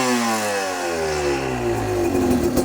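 A close engine revs up from idle, its pitch rising steadily into a loud, buzzing roar.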